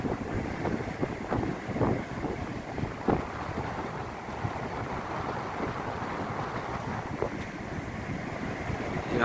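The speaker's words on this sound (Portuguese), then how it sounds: "Olha, um vento forte." Strong wind gusting on the coast at Itanhaém before a storm, with rising surf nearby; a loud, continuous roar buffeting the microphone, no talk.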